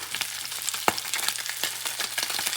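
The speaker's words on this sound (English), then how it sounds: "I cook it for a little bit until it's toasty and nice." Small salmon pieces fry in a pan with a steady close sizzle and scattered crackles and pops, one sharper pop standing out, no voices.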